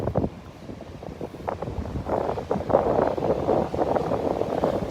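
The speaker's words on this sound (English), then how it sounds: "Boy, that wind is kicking up." Strong wind on Vanderbilt Beach buffeting the microphone, heavy low rumbling gusts that build and stay loud throughout, with no talk.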